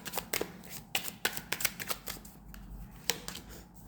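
Tarot cards are shuffled by hand in quick, crisp bursts of riffling and sliding, close and fairly loud, with short pauses between flurries and no talking.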